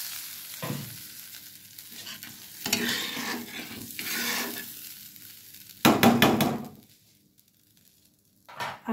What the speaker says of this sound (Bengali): নাড়াবেন যতক্ষণ না টমেটোটা ভালোভাবে গলে যাচ্ছে